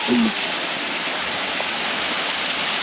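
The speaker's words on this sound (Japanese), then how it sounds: "ちっちゃい滝が結構ミニサイズやね。" A small waterfall pours with a steady, even rushing roar, close and constant, with no pause.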